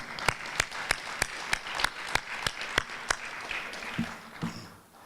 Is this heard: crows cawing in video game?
no